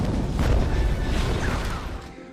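An explosion in an X-Men film scene, a dense roaring blast with a deep rumble that fades slowly over a couple of seconds.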